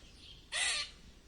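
A single loud, harsh squirrel warning call, close and abrupt, lasting about a third of a second over a quiet background, with no talking.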